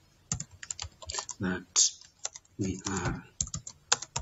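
Rapid keystrokes on a computer keyboard come in quick bursts close by while someone speaks briefly over the typing.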